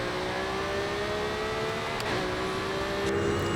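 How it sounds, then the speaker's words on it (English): A car launched hard in first gear on drag tires with a stock engine in Forza Horizon 5, a loud, sustained engine roar with a rising whine, continuous and close with no talking. "let's get first gear, floor it straight off the bat"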